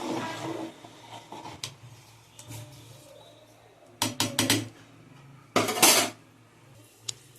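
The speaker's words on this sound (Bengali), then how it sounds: "চালটা দিয়ে দিয়েছি, আমি একটু নাড়িয়ে দেবো হালকা।" Soaked rice being stirred in a pot of boiling water gives off sharp metallic clinks and scrapes of a utensil against the pot, in scattered bursts with two louder clusters over a low background hum.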